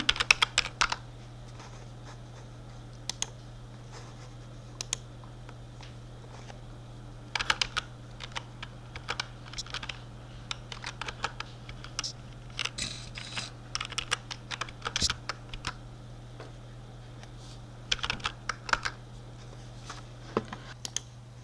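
Someone types on a computer keyboard while entering estimate figures, irregular bursts of close key clicks and occasional heavier keystrokes over a steady low electrical hum, with no talking.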